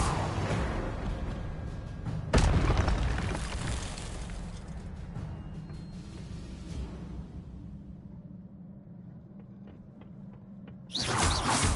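Incendio fire spell going off in a Hogwarts game, a sudden loud burst of flame that settles into a long fading rumble and hiss, followed by another abrupt blast near the end.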